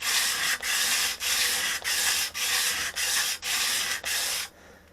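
A wood chisel stroked over a sharpening stone in an X pattern makes eight even, gritty rasping strokes separated by brief pauses, close-up with no other sound.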